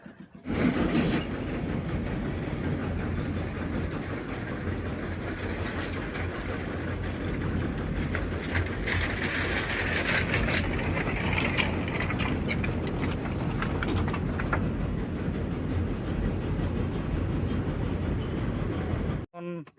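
A train passes over a bridge across the Kangsabati river in the monsoon, a loud continuous rumble with rattling wagon clatter that holds steady throughout and cuts off at the end.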